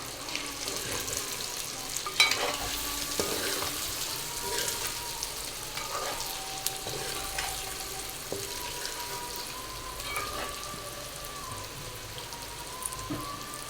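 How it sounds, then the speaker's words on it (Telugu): Egg fry sizzling in oil in a pan while being stirred slowly, a steady crackling hiss with light scraping taps, close but fairly quiet. "ఇవైతే చక్కగా వేగినాయి కదా ఆయిల్ కూడా సపరేట్ అయింది ఒకసారి కలుపుకుందామండి నిదానంగా"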